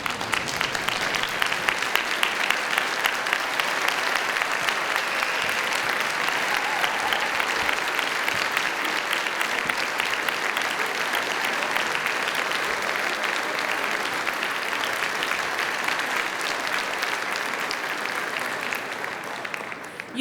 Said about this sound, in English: you should give them a round of applause for being beside you in this journey